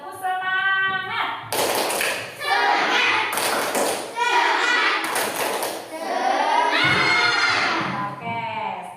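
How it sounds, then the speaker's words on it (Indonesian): Schoolchildren in a classroom perform a rhythmic spirit clap, bursts of loud, close clapping in a patterned beat alternating with children chanting and shouting together, the group's voices rising between the clap sequences. "Nah, kalau gitu tepuk semangat lagi"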